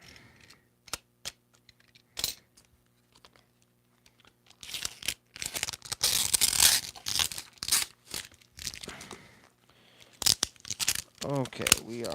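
Packing tape is ripped from a heavily taped shipping package of comics returned from CGC grading, giving loud rasping tears in bursts, with scattered clicks and a person talking in between.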